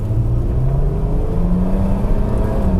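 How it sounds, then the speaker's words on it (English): A 1997 Mercedes-Benz C36 AMG (W202) accelerates gently on a residential street, its engine note rising steadily and loud throughout with a continuous whirring drone and no talk. "Now I'm just gonna kind of like accelerate this car, but not too hard because there's a lot of neighbors here"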